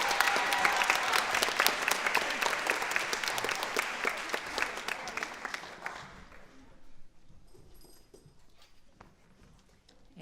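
An audience at a school spring orchestra concert claps steadily for several seconds for the cellists, then the applause fades away into a quiet room with scattered small sounds.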